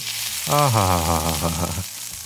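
Tadka spices sizzle in oil over low heat for masoor dal, giving a steady, close frying hiss through the whole stretch, with a brief tonal whine in the middle.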